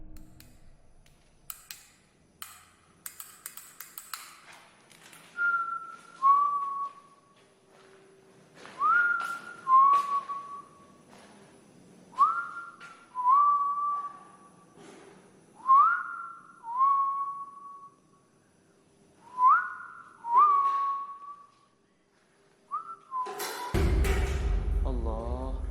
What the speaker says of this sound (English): As he whistles in the paranormal hotspot,